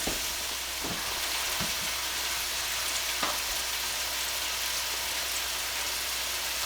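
Steady sizzling of thick chicken pieces with barbecue rub frying in a pan, a continuous crackling hiss with occasional louder pops and spits.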